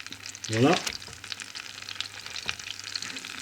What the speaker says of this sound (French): maintenant je vais mettre les hamburgers à cuire